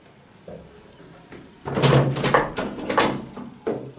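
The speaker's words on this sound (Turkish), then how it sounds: "Bu kapı kilitli." Someone rattles and tugs at a locked door, producing a few faint knocks followed by a burst of loud handle jiggling and thumping against the frame, then a final clack.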